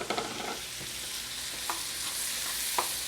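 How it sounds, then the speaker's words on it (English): Button mushrooms and bacon bits frying in a skillet sizzle steadily at moderate level, with a few soft utensil clicks and stirring scrapes, no talking. "we just want to let those mushrooms cook down"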